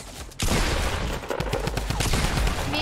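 Gunfire in the video game Fortnite, a rapid loud burst of shots and repeated cracks in quick succession that carries on throughout.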